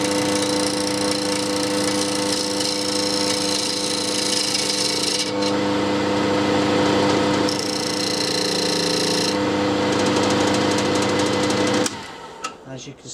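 A lathe tool cuts into a spinning yew log, a constant loud whirring tone with shifting scraping texture that cuts off abruptly near the end, leaving a few quieter knocks.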